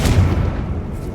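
A Confringo blast spell detonates in Hogwarts Legacy, a single heavy boom with a deep low thump that quickly decays into a rumbling tail.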